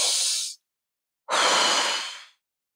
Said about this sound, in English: just close your eyes and try to breathe. Just inhale and exhale.